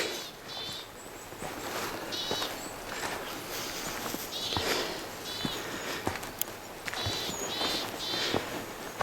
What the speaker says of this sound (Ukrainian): послухайте, як співають птахи.